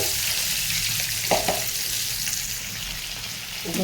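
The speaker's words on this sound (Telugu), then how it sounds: "నూనె అయితే కాగింది ఇలా కట్ చేసుకున్నవి ఇలా వేసుకోవటమే" Bitter gourd pieces sizzle steadily in hot oil, a constant crackling hiss with a couple of soft knocks partway through.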